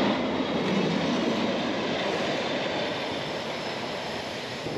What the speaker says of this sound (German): Ich glaube, das ist die Zahnradbahn, die da hochführt.